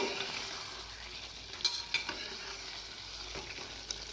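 Mutton curry with garam masala being stirred in a pot, a soft steady sizzle with a few sharp clinks and scrapes of the spoon, fairly quiet and with no talking.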